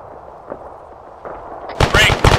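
Gunfire from a BMP armored vehicle in the video game Arma 3: a faint, low rumble leads into a sudden burst of loud, sharp shots near the end.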